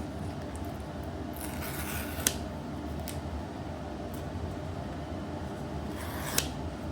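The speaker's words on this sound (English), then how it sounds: "Peeling those tabs across." Pull tabs being peeled off an AirPods Pro 3 box, soft tearing and rubbing of paper strips with a few brief sharp rips over faint background hum.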